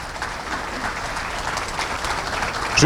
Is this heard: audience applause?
yes